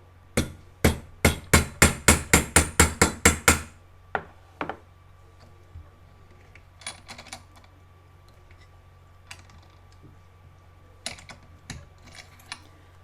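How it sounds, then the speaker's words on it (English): A hammer sharpens a bend in metal, a fast burst of about a dozen crisp close strikes, then scattered lighter taps and clicks spread out over the rest. "We can then sharpen that bend with a hammer."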